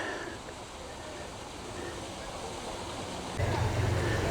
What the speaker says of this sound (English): There's the bottom of the waterfall where it goes into the pond.